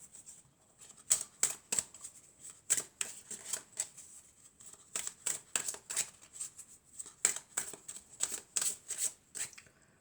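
Tarot cards are handled and drawn, giving repeated crisp flicks and riffling snaps in irregular bursts, close and clear with no talking.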